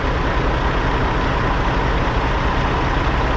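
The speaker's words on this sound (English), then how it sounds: "Oh, and here comes truck 118." A heavy truck's engine rumbles loud and close in a driveway, a constant deep idling drone with no gaps and no talk over it.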